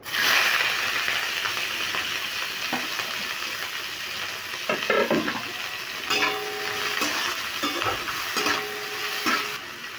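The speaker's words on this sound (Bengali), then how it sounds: "এবার ক্যাপসিকামটা দিয়ে দিচ্ছি, কড়াইতে ঢেলে দিচ্ছি।" Capsicum frying in a little oil in a wok: a continuous close hiss and sizzle, with a few utensil scrapes and clinks in the middle and later stretches.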